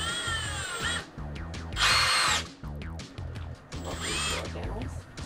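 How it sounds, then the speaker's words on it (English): A power drill drives screws through two wooden boards glued together for a boat cabin joist, with rapid pulsing whirs, a louder high-pitched burst around the middle and short stops between runs. "Then we test fit the pieces before gluing and screwing 2 boards together for each joist."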